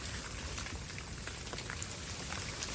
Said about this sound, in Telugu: వర్షం కన్నా ఈ ఆకుల మీద నీళ్ళే ఫోన్ మీద పడిపోతున్నాయి బాగా